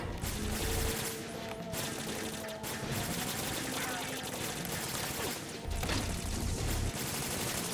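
An M4 rifle fires in sustained bursts in Metal Gear Solid 2, loud and close with dense rattling volleys. Short pauses break the shooting, and game sounds fill the background.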